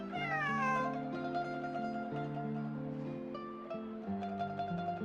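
A cat meows in the video game Genshin Impact, a rising, drawn-out cry heard over sustained game music with held harmonic tones and shifting chords, the meow prominent early before the music carries on alone.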